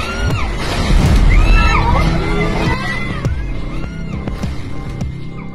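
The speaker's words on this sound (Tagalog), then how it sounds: "bigla na lang rumagasa ang malakas na agos ng tubig mula sa nasirang pader" Floodwater surges through a collapsed river wall in Navotas, a loud rushing torrent with sloshing water, overlaid by excited shouting and crowd voices, with sharp cries and clattering bursts over the roar.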